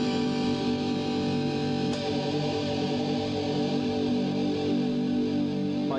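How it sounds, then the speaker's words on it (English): Electric guitar through a 1993 Crate amplifier with chorus engaged, a sustained wavering, shimmering tone holding steady and loud throughout without any voices. "Now, the chorus has its own functions for rate and depth, so you can get from a radical sort of chorus."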